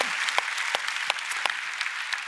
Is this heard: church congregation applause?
yes